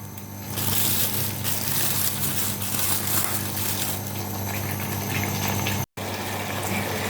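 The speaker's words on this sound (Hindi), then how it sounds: "अभी हम इसकी भुनाई करेंगे अच्छी तरह से" Masala for a village-style fish curry fries in hot oil, giving a close, steady sizzle and bubbling hiss that keeps going, with a low hum underneath and one brief cut near the end.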